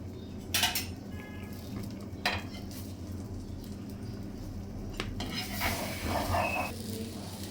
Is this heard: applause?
no